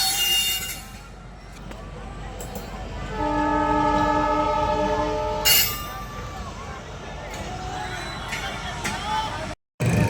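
A train rumbles past close by and blasts its horn in a long, steady multi-tone blare, with voices and clatter around it.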